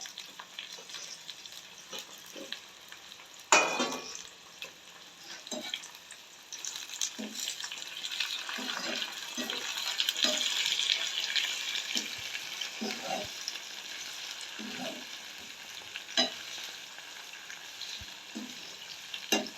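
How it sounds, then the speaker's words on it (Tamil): Curry leaves and tempering spatter and crackle steadily in hot oil for noodles, a dense sizzle with scattered sharp pops and one louder burst near the start, close and without speech. "எண்ணெய் கொதிச்சபடியாக வந்து பார்த்தீங்கன்னு சொன்னால் நல்லா தாளித்து பொரிஞ்சு கொண்டு வருது"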